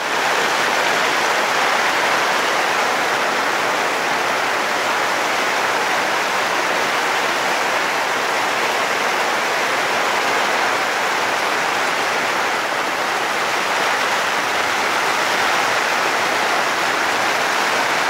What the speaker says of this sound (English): what the yurt looks and sounds like during a major rainstorm